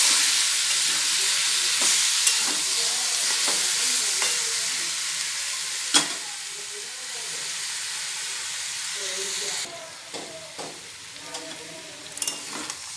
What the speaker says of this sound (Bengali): ডিম, সোয়াবিন, আলু সব একসঙ্গে ভালো করে ভেজে নিচ্ছি।